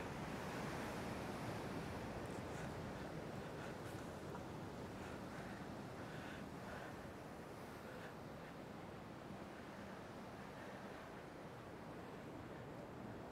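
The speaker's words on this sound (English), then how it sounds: "It's the Atlantic Ocean." Atlantic Ocean waves washing against an island coast in the Azores at Vila Franca do Campo, a steady loud roar of surf with wind noise buffeting the microphone throughout, no voices.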